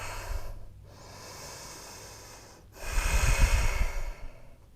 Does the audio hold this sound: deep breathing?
yes